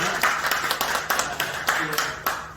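A congregation at a Sunday church service stands and claps in unison, an even, brisk rhythm of strong beats from many hands filling the room, with faint voices underneath.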